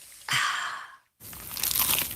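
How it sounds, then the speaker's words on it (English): Crunchy cheesy pizza is bitten close to the microphone: one loud crisp crunch, a brief silence, then a second longer crackling, chewing crunch. "Is that the sound of an ooey gooey cheesy crunchy slice of P-I-Z-Z-A?"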